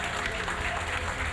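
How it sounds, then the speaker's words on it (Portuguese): Congregation clapping in praise during an evening church service, a short, dense burst of many hands applauding together, loud and close. "Quantos crescentes glorificando, exaltando com uma linda salva de palmas para adorar o nome do Senhor nesta noite."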